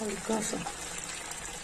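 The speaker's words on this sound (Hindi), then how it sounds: "पानी डाल देती हूँ।" Water is poured into a cooking pan of achari chicken, giving a brief hiss and gush under a woman's short spoken remark, fairly faint and close.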